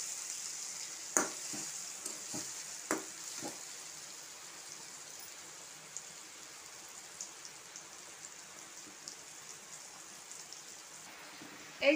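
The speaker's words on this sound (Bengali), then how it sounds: "এই মশলার সঙ্গে আমড়াটাও আমার কষানো হয়ে যাচ্ছে একই সঙ্গে।" Hog plum cooking down with spice paste in a pan gives a steady soft sizzle, with a few sharp clicks and scrapes of stirring early on and near the end; no one speaks.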